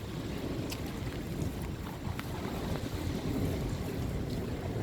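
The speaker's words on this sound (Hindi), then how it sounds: "बारिश तो हो रही है लेकिन साथ जो है ना हवा चल रही है" Wind blows hard during a stormy rainfall in a mountain village, a steady low rushing roar buffeting close by with faint crackles, no voices.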